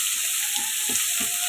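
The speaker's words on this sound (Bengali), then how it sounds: "কিছুটা মরিচ, পেঁয়াজ আমি একটু ডিপ ফ্রাই করে নিব" Chillies and onions deep frying in the same oil just used to fry fresh village pond fish give a steady, close sizzle, with a few soft stirring knocks underneath.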